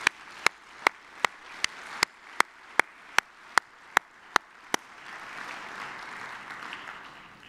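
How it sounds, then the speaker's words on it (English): Scholarship awards audience clapping in a slow, steady rhythm of about a dozen sharp, evenly spaced claps, then dissolving into a softer wash of scattered applause. "Please, how about a rousing round of applause?"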